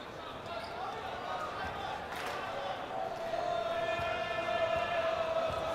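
A basketball crowd murmurs and grows rowdy ahead of a free throw in a high school tournament game, a steady far-off roar with a sustained tone rising over it, while a commentator talks throughout.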